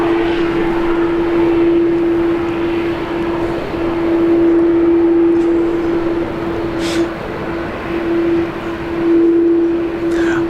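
Qantas flight 533 jet at Brisbane International Airport, a loud steady engine roar with a sustained tonal whine that swells and fades as it moves, heard from the ground with no talking.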